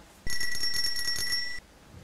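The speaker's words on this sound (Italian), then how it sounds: "Ah, è il timer del forno." An oven timer bell rings in a kitchen where Christmas cookies are baking, giving one bright, shimmering metallic ring of about a second and a half. It is loud and close, with no voices.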